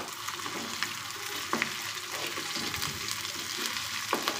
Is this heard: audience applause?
no